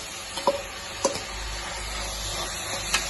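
Ginger garlic paste frying in a pan for a Kerala-style beef white curry, giving a steady close sizzle with a few sharp clinks of stirring scattered through.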